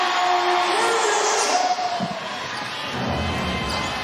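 Crowd noise fills a basketball arena during a WNBA playoff game between the Indiana Fever and Connecticut Sun, a steady loud roar that swells early, dips briefly and rises again, with faint court sounds underneath.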